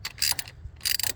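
Screws being tightened a little at a time on the fuel injector rail of a 2013 Buick Regal Turbo, two short bursts of ratcheting clicks close by.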